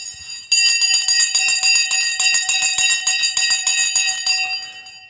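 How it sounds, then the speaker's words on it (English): Stock market closing bell ringing loudly and continuously with rapid repeated metallic strikes for several seconds, starting abruptly and fading slightly near the end, with no talk over it. "So the bell has gone"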